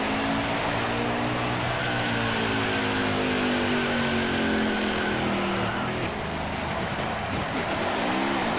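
Engine revving hard with tire squeal as a car does burnouts and donuts in a PS4 racing game, a loud continuous roar with rising and falling pitch throughout.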